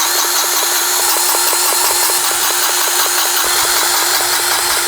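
A grease gun greases a farm disk, heard as a loud, steady, rapidly pulsing mechanical whir that keeps going without a break, close by and alone.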